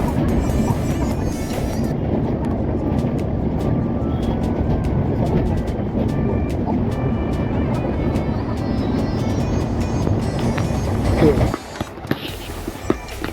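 Steady, close rumble and rattle of a passenger train running from Howrah to Varanasi near DDU station, heard from aboard. The noise continues throughout and shifts in character near the end.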